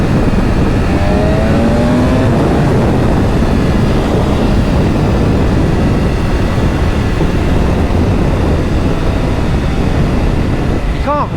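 A Yamaha MT10 motorcycle roars loud and close through constant wind rush as it rides at speed in the UK, with the engine note rising as the rider accelerates.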